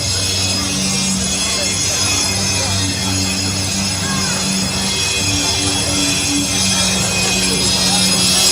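Dense crowd chatter fills an opening night of Halloween Horror Nights, a steady, constant murmur of many voices without pause, with no single voice standing out.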